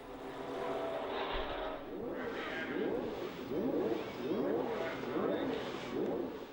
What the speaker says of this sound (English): the cars moved up to a start which saw Jackie Stewart surge into the lead